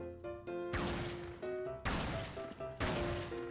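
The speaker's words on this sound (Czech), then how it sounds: "Ajajaj, tady se to střílí." Several loud, sharp gunshot blasts in a video game, about four heavy bursts spaced roughly a second apart over steady tonal game music.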